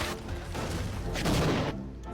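A video-game explosion from a gun mod in Secret of the Mimic: muffled booming blasts and rumbling bursts at moderate volume, trailing off near the end.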